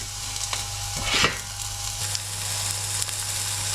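Bass fillet frying in a pan, a continuous close sizzle with faint crackles and a low steady hum.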